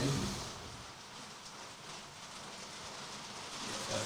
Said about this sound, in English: if you guys can hear the rain